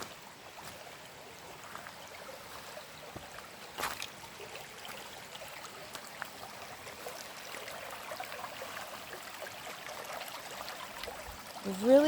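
A clear woodland brook in Northern Maine on a hot day flows in a soft, steady trickle and babble, heard close, with a brief louder splash partway through and faint rustling nearby.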